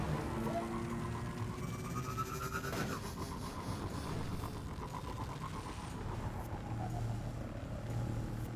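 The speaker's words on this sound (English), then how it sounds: "Going to summon my vehicle again, just to make this bit a little bit faster" A summoned hover vehicle in Destiny drives along with a steady, fairly loud engine drone that holds for the whole stretch, shifting pitch slightly as it moves, with no talking.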